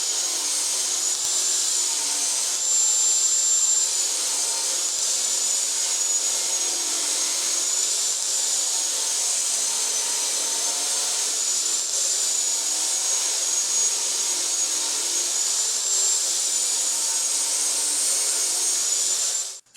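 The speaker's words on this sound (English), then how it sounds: "take the table saw and cut off all of these split ends and joint the edges" A table saw trims split ends off planed pallet boards in a workshop, giving a steady, continuous whirring roar with a thin high whine that holds evenly throughout and cuts off abruptly at the end.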